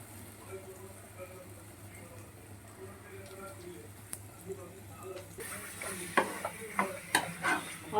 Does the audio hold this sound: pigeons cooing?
no